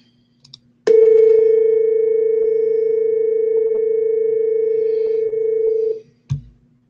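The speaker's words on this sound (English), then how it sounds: "Do you hear the beats, basically where it kind of trills a little bit?" A steady pure tone held for about five seconds, two similar tones beating together to give a slight wavering pulse in its loudness, then cutting off abruptly.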